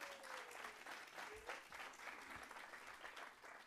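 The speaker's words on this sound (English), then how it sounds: "Give yourselves a big round of applause." Audience at the ADCOLOR 2014 awards show applauding steadily in a hall, a dense wash of clapping throughout.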